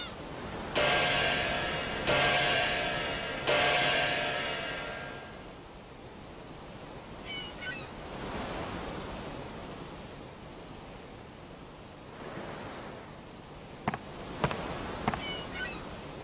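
Ocean surf swelling and washing around a sailing ship as it weighs anchor in Dragon Quest VIII, soft rolling waves with a few sharp taps and distant bird calls, no voices.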